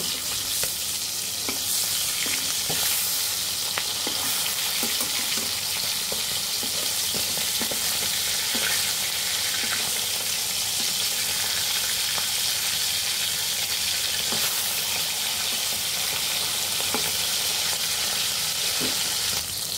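Bata fish frying in a shallow layer of oil in a wok, continuous close crackling sizzle with occasional sharper pops and light stirring or turning sounds, no talking.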